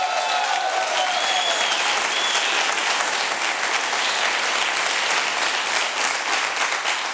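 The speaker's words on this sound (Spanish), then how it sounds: "Un aplauso para Mercedes Brito." Loud, dense applause from a television studio audience, sustained and even throughout, with a brief whistle-like tone near the start.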